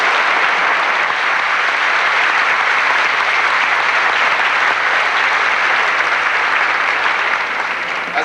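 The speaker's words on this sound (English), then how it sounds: "Round of applause." Sustained applause from a high school choral concert audience, a dense, even wash of many hands clapping that holds steady for several seconds before easing slightly at the end.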